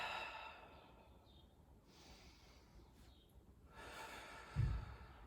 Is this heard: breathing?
yes